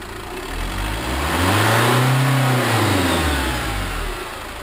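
A car engine revs up and back down under acceleration, a steady close-up roar whose pitch rises to a peak mid-clip and then falls, with no talking.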